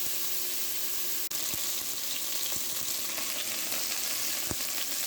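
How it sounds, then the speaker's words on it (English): Ground beef browns in a hot pan, sending out a loud, steady sizzle and crackle with a few sharp pops and scrapes throughout. "we're going to brown the ground beef"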